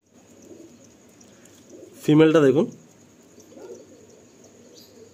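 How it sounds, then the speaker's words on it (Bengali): Pilanka pigeons coo faintly in the background, low soft murmurs before and after a brief loud stretch where someone speaks. "এই পায়রা প্রচুর উড়ানো"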